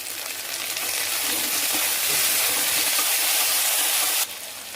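Tomatoes for okra sambar sizzle and fry in a hot pan, a steady, loud, close hiss that holds for about four seconds before dropping suddenly to a softer sizzle.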